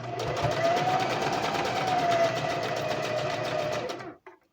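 A sewing machine runs at a steady speed while stitching fabric for a pocket seam. The close, even mechanical whir lasts about four seconds, then stops abruptly and is followed by a faint click.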